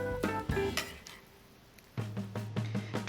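Fried sweet potato pieces tossed in syrup in a pan, giving soft clinks and scraping knocks of utensil against pan in a short, close burst.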